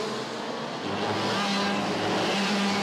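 Racing karts with TM and Iame engines at South Garda Karting during a WSK Champions Cup OK prefinal, high-pitched two-stroke engines droning steadily together at close range, with no talk.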